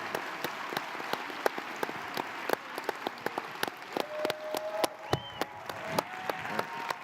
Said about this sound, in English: How about a big round of applause for our panelists?